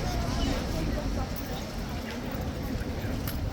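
Horse hooves clip-clopping on a city street near royal guards, a steady walking rhythm under loud crowd noise and talking.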